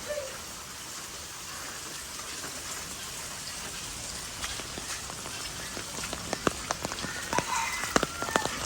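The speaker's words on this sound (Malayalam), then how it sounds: "അപ്പോഴേക്കാണ് മഴ പെയ്തത്." Soft, steady rain patters on a surface at a small farm, with sharper individual drops tapping more often toward the end.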